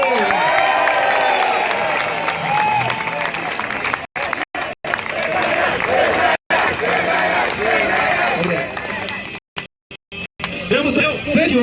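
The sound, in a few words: crowd applause at political rally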